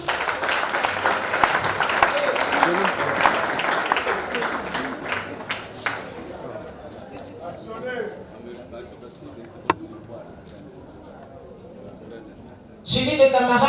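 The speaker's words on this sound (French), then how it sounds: "Sous vos applaudissements." Audience applause at a trade union training closing and certificate ceremony, loud and dense for about six seconds, then fading into scattered claps and chatter before a brief burst returns at the end.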